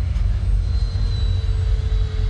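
Freewing JAS-39 Gripen RC electric ducted-fan jet flying an inverted high-alpha pass outdoors, a steady airy whine with a slowly drifting tone over wind rumble, continuous and fairly close.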